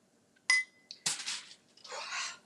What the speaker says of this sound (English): I'm just putting them in a bowl so y'all can see